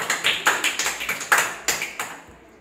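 A group of children in a classroom clap in a quick, uneven burst of about a dozen sharp claps spread over two seconds, fairly close and without talk.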